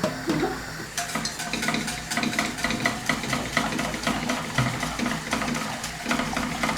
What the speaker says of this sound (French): Je mélange jusqu'à ce que ça me donne une consistance de purée qu'on aime en fait